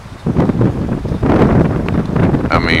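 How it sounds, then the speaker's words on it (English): Wind buffets a microphone outdoors near a Windmax HY 500 watt wind turbine in Southern Virginia, a loud, rough, continuous rumble with gusts, and a brief tonal whine near the end. "I'd say about an 8 mile an hour wind."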